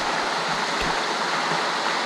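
Canyon Creek in Arizona flowing beside the bank, a loud, steady broadband rush of moving water close by with no talking.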